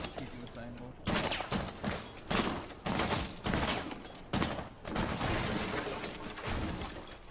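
Rapid bursts of gunfire crack in a tense Rainbow Six Siege round on the Consulate map, with repeated close loud volleys and brief pauses between them, and players talk over the shooting.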